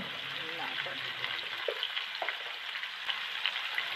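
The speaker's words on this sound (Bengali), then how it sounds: "পেঁয়াজ আলু একটু ভালো করে ভেজে নিচ্ছি।" Cubed potatoes and onions fry in a pan with a continuous soft sizzle and occasional stirring scrapes, and a voice is faintly heard at the start.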